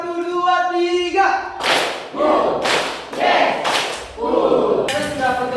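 A classroom of students claps hands together in rhythm after a voice calls out a short count, the group claps landing as sharp, full-room bursts at an uneven beat.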